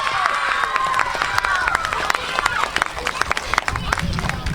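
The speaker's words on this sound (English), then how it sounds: "These are the most important people here that deserve the biggest round of applause" Crowd at a public works day event claps and cheers for students, dense applause with shouts and whoops throughout, fairly loud and close, with a voice briefly emerging near the end.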